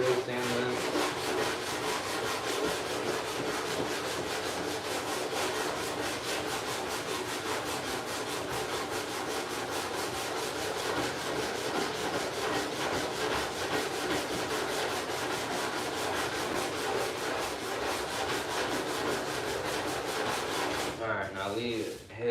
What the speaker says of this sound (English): So we're gonna go through and sand this.